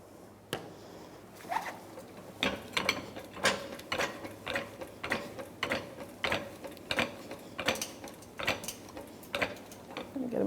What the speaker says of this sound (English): And now I can jack up the actual transmission and line those bolt holes up.